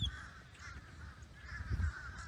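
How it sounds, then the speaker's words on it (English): Crows or ravens caw repeatedly beside a golf course, harsh calls coming in several bursts at moderate distance over a low outdoor rumble. "I don't know if those are crows or ravens."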